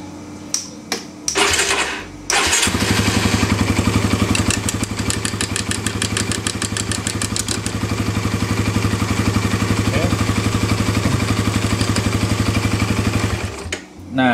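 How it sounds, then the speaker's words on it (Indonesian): A motorcycle engine with a mechanical clutch and plate starts after a couple of short cranks, then settles into a steady, loud idle close by that runs almost to the end, with the clutch left released. "ketika mesin dinyalakan, kopling belum kita tarik ataupun dalam posisi lepas"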